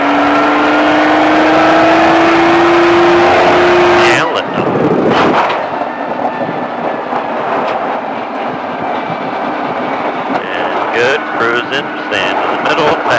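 Car engine on a Baja off-road course, a steady high drone that drops away around four seconds, then rumbling, bumping tyre and suspension noise as the car keeps driving, with a voice talking throughout.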